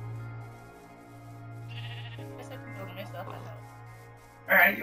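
Sheep bleating in a video game, a few short bleats over steady background music, with a louder burst near the end.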